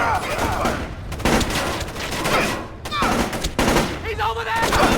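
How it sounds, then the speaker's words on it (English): Heavy gunfire in the stealth game Splinter Cell: Chaos Theory, dense overlapping automatic bursts with sharp cracks running almost nonstop, loud and close, with brief pauses between volleys. "We've got incoming shots!"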